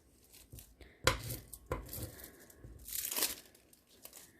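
Thin metal foil being peeled and crinkled while making a fish-themed ocean greeting card, giving sharp crackly bursts with a couple of louder tears and rustles in a quiet room.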